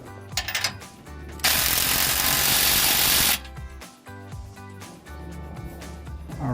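A power tool rattles in rapid bursts while tightening the rear exhaust clamps on a 2019-2023 Chevrolet Silverado, with short loud hammering runs broken by a long, dense, steady stretch of impacting.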